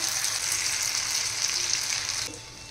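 Crispy corn and vegetable cutlets shallow-fry in oil in a pan over a medium flame, giving a steady close sizzle that quiets near the end.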